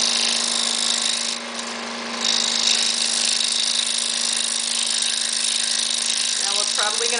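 A scroll saw with very fine teeth cuts a wooden reindeer ornament, giving a loud, steady motor hum and buzz that eases for a moment before resuming. A voice speaks briefly near the end.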